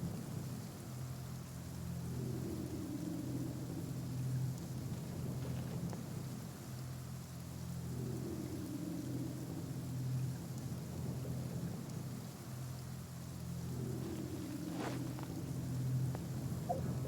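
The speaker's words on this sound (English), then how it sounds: "Quite a downpour. Nothing will get done until it clears." Heavy rain falls in a steady downpour in the video game Genshin Impact, a continuous hiss with low rumbling swells recurring every few seconds, with no voices.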